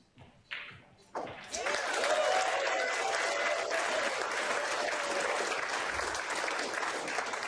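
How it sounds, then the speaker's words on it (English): A crowd at a Predator Pro Billiard Series match in Saint Louis bursts into loud, sustained applause and cheering after a brief clap or two, filling the hall with dense clapping throughout. "We're going to hear the crowd."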